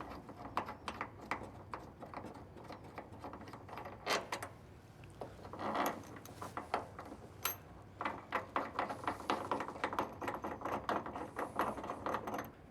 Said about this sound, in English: Now we got to remove the old pins.